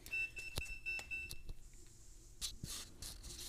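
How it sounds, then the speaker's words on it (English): An arcade redemption game gives a series of short electronic beeps mixed with sharp clicks and clacks, fairly close and moderately loud, followed by a brief rattling burst. "Something beeped at me."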